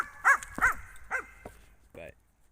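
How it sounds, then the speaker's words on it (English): A short-coated Patterdale terrier gives a quick series of sharp, close barks followed by a higher, whining whimper, each bark distinct and separated by brief pauses. "So this is a patterdale terrier."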